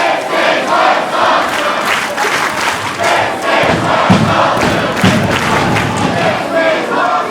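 Dense, loud wrestling arena crowd roaring and chanting in unison during a street-gang hooligans match, steady massed voices filling the whole stretch with a few thuds underneath.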